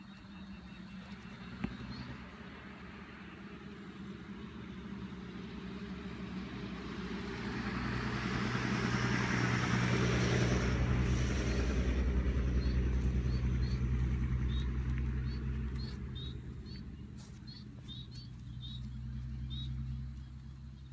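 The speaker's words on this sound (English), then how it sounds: "it was a noisy car going past" A noisy car passes at a distance, its broad engine and tyre rumble swelling to a peak near the middle and then fading out, heard outdoors in a setting where a foal is being trained.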